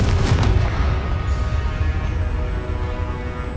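In Hogwarts Legacy, the Confringo fire-blast spell explodes with a deep, booming burst at the start, followed by a sustained low rumble and crackle that slowly fades.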